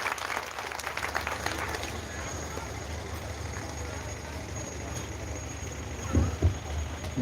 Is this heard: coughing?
no